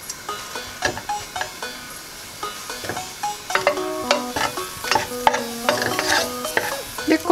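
Butter sizzles and crackles steadily in a hot pan as the start of a clam chowder, with sharp stirring clicks and scrapes scattered throughout and no one speaking.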